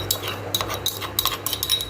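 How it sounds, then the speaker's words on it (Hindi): Metal spoon clinking against a steel pot as crushed kadha ingredients are tipped into boiling water, with a few sharp light taps and scrapes over a low simmering rumble. "अब मैं चम्मच से इसे खौलते हुए पानी में डालूंगी।"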